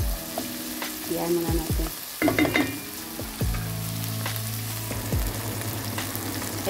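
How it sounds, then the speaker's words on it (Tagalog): Tomatoes sizzle and fry in a pan before chicken liver is added, a steady crackling bed broken by scraping stirs and clinks, with a voice briefly speaking. "hintayin muna natin na maluto yung kamatis bago natin ilagay ang liver, ang atay."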